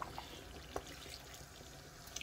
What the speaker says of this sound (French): Je mets de l'eau.